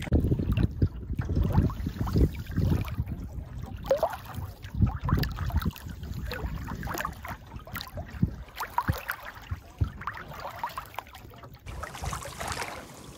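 A canoe is paddled across a lake in Algonquin Park with a tailwind, irregular close paddle strokes and water swishes under gusty wind buffeting the microphone, with no talk.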